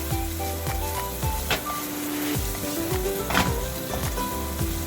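Garlic prawn saag sizzles in a hot pan while being stirred, a constant frying crackle with repeated scraping strokes of the spoon, close and fairly loud.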